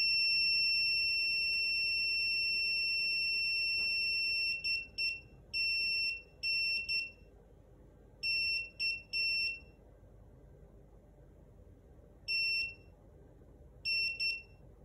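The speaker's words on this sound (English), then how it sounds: "wait until SARCTRAC stops beeping" SARCTRAC Mk2 3D sensor emitting a steady high electronic tone during calibration that breaks into a series of short, clean beeps in irregular clusters, clear and close in a quiet room.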